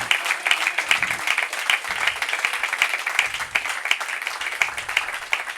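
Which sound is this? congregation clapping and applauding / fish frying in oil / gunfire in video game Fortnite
congregation clapping and applauding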